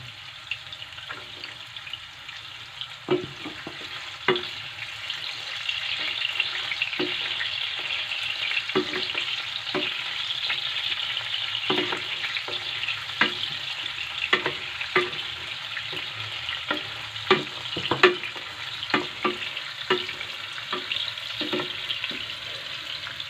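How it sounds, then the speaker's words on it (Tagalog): Garlic frying in a pan for a budget tuna carbonara, a continuous bright sizzle punctuated by regular spatula stirring taps. "Add natin yung ating garlic."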